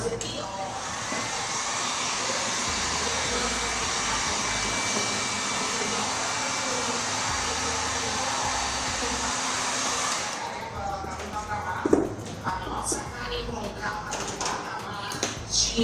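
A loud, steady rush of hot air from a heat gun at maximum temperature, used to apply vinyl wrap to a microwave, runs for about ten seconds, then cuts off, leaving quieter handling noises.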